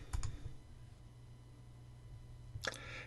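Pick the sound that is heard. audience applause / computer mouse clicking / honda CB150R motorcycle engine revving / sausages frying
computer mouse clicking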